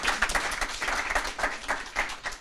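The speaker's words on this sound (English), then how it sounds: "Give a round of applause for Sam." Audience applause at a judged pitch event about microbreweries, a brief burst of dense clapping at moderate distance with no talk over it.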